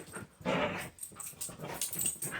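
An excited, playful crazy dog whimpers and yips close by in quick, uneven bursts, mixed with whines and a hint of growling, with no voices heard.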